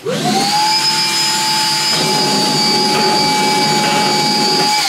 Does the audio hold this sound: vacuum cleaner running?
yes